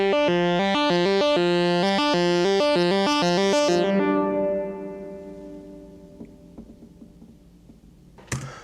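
A bright synthesizer pattern of repeated stepped notes plays, then cuts off into a long, splashy metallic spring reverb tail from a Grandmother synthesizer that fades away, ending with a sharp twang.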